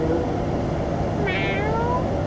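A young child imitates a cat, giving a drawn-out, rising meow over a noisy indoor room background.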